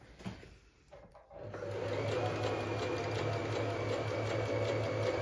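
A Pfaff smarter 140s sewing machine stitches zigzag after a short quiet start, then settles into a steady, close, even whirring hum.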